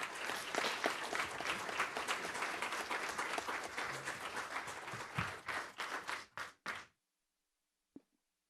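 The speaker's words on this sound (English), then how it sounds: "Can we get a round of applause, please?" A round of applause from the audience at a Bradley County Commission special called meeting, steady clapping for several seconds that thins into a few scattered claps and stops, followed by a single faint knock.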